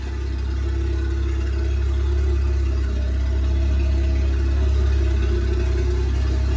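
Toyota Aristo with a swapped 1JZ-GTE engine and five-speed, running steadily as the car drives in rear-wheel drive, a loud, continuous low engine drone with no talk.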